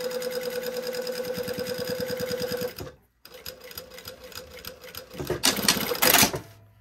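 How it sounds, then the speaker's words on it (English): A sewing machine top stitches a lining in rapid mechanical bursts, pausing briefly, then running again with brighter clatter toward the end, close and loud with no talking. "Again, lots of top stitching."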